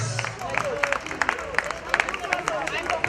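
Applause at a Kölsch summer festival gathering, hands clapping in a dense, steady patter with sharp individual claps, with crowd chatter mixed in beneath.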